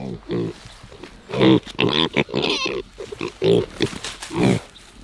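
Homestead pigs in their shelter give a series of close, irregular grunts and snorts in short bursts across the span, loud and up front.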